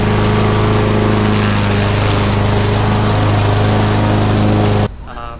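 Honda HRX217 self-propelled lawn mower running: a loud, steady, close engine drone with a strong hum that cuts off abruptly near the end, leaving quiet background.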